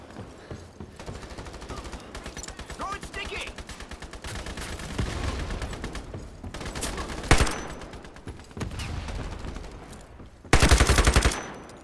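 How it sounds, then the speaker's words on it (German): MP5 submachine gun firing in a shooter video game, rapid repeated bursts of close automatic fire with sharper loud blasts near the end, with a voice talking over parts of it. "Okay, wir probieren mal die MP5 aus."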